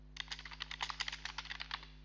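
A run of quick, crisp clicks from a computer mouse and keyboard during a Windows 7 software setup, close and distinct over a low steady electrical hum, with no voices.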